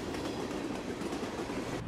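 A New Jersey Transit or Morristown & Erie train on the Morristown Line passes Maplewood or Mountain station in a steady loud roar of rolling wheels and rail noise, close by and without talk.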